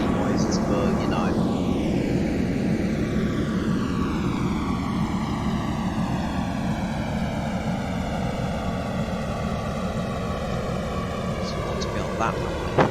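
Engines of a Lufthansa Airbus A320 in Flight Simulator X, a loud continuous jet roar with a tone sweeping steadily downward as power changes, under a low talking voice.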